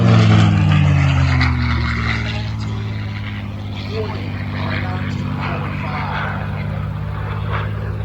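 Propeller aircraft droning overhead at an airshow, its engine tone strong at first and then easing into a steady, slightly more distant hum that fills the whole stretch.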